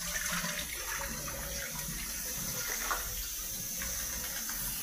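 Water is poured out of a container while crabbing at Al Khor, Qatar. A steady, splashy rush of liquid runs for several seconds without a break.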